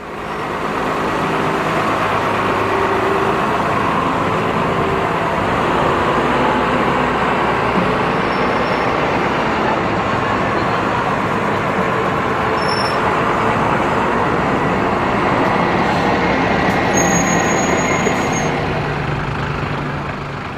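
RML Routemaster buses roll into a show display area, a loud steady diesel engine drone and road rumble throughout, with faint hisses and squeaks of air brakes.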